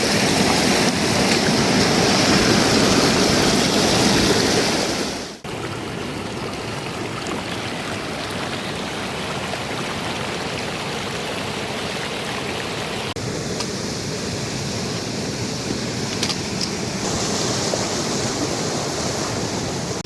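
Sulfur-laden mountain river on Mount Rinjani rushing steadily, a broad continuous roar of flowing water that drops slightly in level after a few seconds then carries on, loud and close with some wind, no voices.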